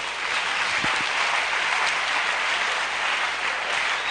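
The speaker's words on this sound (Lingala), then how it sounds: "bobeta maboko na avancer" An audience claps its hands in a dense, continuous round of applause that holds steady throughout.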